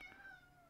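A single house cat meows nearby in a short, wavering cry that slides downward, faint and alone without talk.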